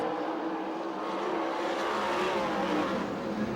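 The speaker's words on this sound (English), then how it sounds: "Herman Sater in the number 5 car takes away the 2nd place spot" USAC/CRA sprint cars race at Perris, California, their engines a loud, continuous roar that swells and holds steady throughout with no pauses.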